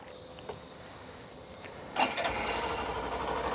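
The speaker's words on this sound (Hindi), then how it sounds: "तो कैसी ये आवाज़ करता है, इसका जो इंजन है 125 सीसी का, ये शुरुआत हुई है" A Hero Glamour XTEC 125cc motorcycle engine starts: a faint click, then the engine catches and settles into a steady, fairly quiet idle that runs on to the end.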